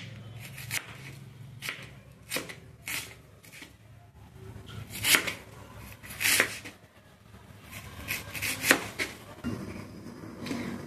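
Knife chopping onions and green chillies on a board: a steady run of sharp, close taps in quick bursts, some louder strokes standing out, with no talking.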